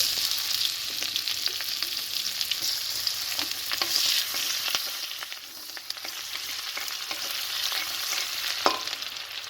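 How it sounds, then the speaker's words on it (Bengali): Chopped onions frying in a pan with black cumin seeds for a prawn curry, a steady bright sizzle throughout with occasional stirring scrapes and a sharp clink near the end. "পেঁয়াজ কুচি দেবো,"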